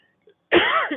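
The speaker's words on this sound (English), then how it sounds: "I'm going to cough throughout the evening because I'm dehydrated" A person with a dry, dehydrated throat gives a single harsh cough, close and loud, rasping and trailing off after a faint throat sound.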